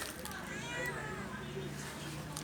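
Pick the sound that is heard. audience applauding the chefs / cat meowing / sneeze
cat meowing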